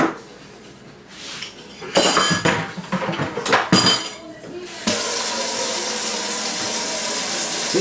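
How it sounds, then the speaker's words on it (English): Cold water from a tap runs into a bucket while pickled pork skins are being prepared, with clinks and knocks of pots and utensils early on, then a steady, loud rush of filling water. "I'm going to put some cold water in here"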